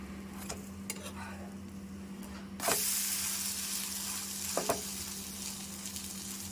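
A rava uttapam sizzles steadily on a hot pan just after being flipped, a loud broadband crackle rising abruptly partway through, with a few soft scrapes and taps from the spatula.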